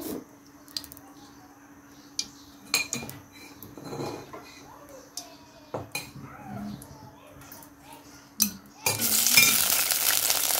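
Mung dal being cooked in a pot, with spoons and utensils clinking and scraping against cookware in scattered knocks, a soft sizzle and faint speech, then a louder hissing rush near the end.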